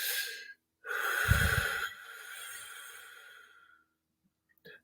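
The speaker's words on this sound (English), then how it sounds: "breathing all the way out." A deep breath is slowly exhaled during a guided meditation session, a long airy rush of breath close to the microphone that fades out, followed by a brief faint noise.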